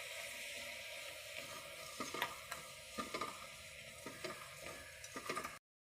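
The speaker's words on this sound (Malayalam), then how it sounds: "ഇതിലേക്ക് നമുക്ക് 2 തക്കാളി കൊടുക്കാം. നല്ല ഇളക്കി കൊടുക്കാം." Two tomatoes being stirred into a frying pan, with a steady soft sizzle and about a dozen light spoon scrapes and clinks spread across the clip, close and fairly quiet.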